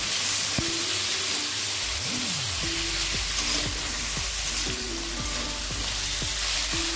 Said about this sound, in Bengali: মূলোটা দিয়ে 1 মিনিট ভেজে নিয়েছি